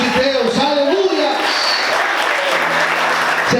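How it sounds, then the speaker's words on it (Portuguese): A church congregation applauds together, a dense, steady wash of clapping that fills the room, with voices and shouts rising over it at the start. "Quantos podem aplaudir e exaltar o nome de Deus?"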